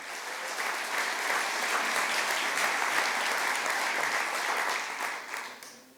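Warm applause from a luncheon audience at a university athletic hall of fame induction ceremony, a full steady patter of many hands that swells briefly and then fades out at the end.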